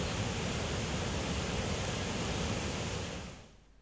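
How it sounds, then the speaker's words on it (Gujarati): Floodwater from the Shingoda river near Kodinar, Gujarat, rushes heavily over a causeway after heavy rain, a loud, unbroken, roaring wash that fades away at the very end. "કોઝવે પર ભારે પાણીનો પ્રવાહ અત્યારે જોવા મળી રહ્યો છે"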